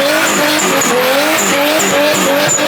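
A 1,000 horsepower BMW with its tires squealing and skidding, loud and close, the engine roaring and rising and falling in repeated pulls through continuous tire noise.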